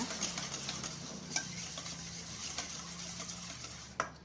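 A spoon stirs egg yolks with sugar and a pinch of salt into a flourless banana cake batter in a bowl, giving soft, steady scraping with a few light clinks against the side, quiet and close, with no talking.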